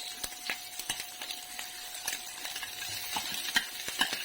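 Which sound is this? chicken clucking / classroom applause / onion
onion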